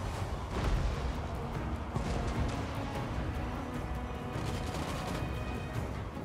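Dwarf gun units firing in Warhammer 2 battle, a dense, continuous wash of distant massed gunfire and rumbling battle noise, steady throughout without clear individual shots.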